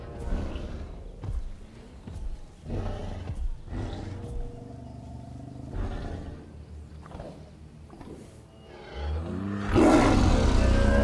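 A Carcharodontosaurus in the Jurassic World Evolution video game lets out several deep, rumbling, lion-like roars with a mechanical edge, spaced apart and close, building to a loud, harsh final bellow.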